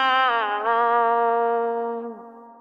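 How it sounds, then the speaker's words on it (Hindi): A processed vocal note carries a subtle delay effect from a panning delay plugin, held for about two seconds with a steady pitch, then sliding down and trailing off softly. "जो मेरा डिले प्लगइन है ये वो डिले इफेक्ट क्रिएट कर रहा है जो कि आप लोग अभी सुन सकते हैं"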